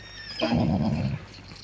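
A Hutsul mare lets out one loud, close whinny that rises sharply and then trails off into breathy rumbling, heard on its own.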